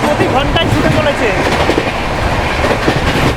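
The Howrah Puri Shatabdi Express races along at about 128 km/h near Khurda Road, a loud, steady roar of wheels and rushing air with continuous rail clatter throughout.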